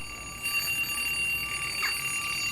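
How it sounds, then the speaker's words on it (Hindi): A cartoon alarm clock rings with a steady high electronic tone, holding evenly throughout at moderate level with no talking over it. "ये पौने 7 का अलार्म किसने लगा दिया इसमें?"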